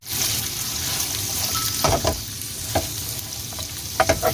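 Carrots, chilies and garlic stir-fry in a pan with a steady hiss, while a utensil scrapes and clatters in short bursts, loudest toward the end.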